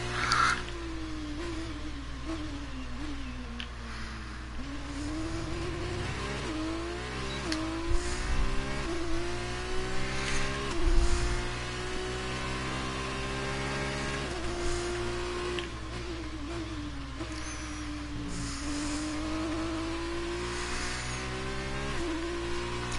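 Formula 2 race car engine in F1 2019 at the Bahrain circuit, a loud high-pitched whine that climbs through repeated gear shifts, dips under braking and revs up again over a steady in-car drone.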